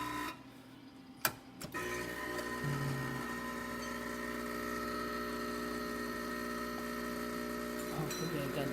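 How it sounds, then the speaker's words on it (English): A Rocket Appartamento espresso machine, just back from a service that restored its heat, pulls a single shot with a steady, loud pump drone and low hum that runs unbroken after a brief click near the start. "So let's do one shot of espresso."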